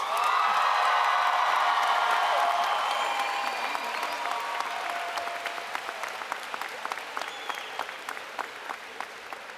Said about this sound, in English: Let's give Miss Russell a big round of applause